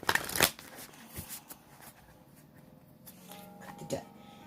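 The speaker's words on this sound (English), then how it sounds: "let me give this a quick hand shuffle here, and then I will shuffle it one more time" Tarot deck being hand-shuffled: a sharp riffle-like burst of card flutter up front, then softer sliding and tapping of cards through the rest, close and fairly quiet, with someone talking.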